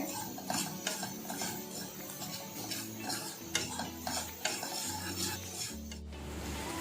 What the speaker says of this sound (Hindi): उसी सॉसपैन में मैं अभी रोस्ट कर रही हूँ खसखस, एकदम हल्का सा